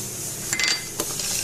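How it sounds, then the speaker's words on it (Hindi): Metal puja utensils clatter and clink in a kitchen as they are gathered for washing, with a few sharp knocks standing out over a low background hum. "सबसे पहले मैं बर्तन धोऊंगी, उसके बाद मैं पूजा करूंगी।"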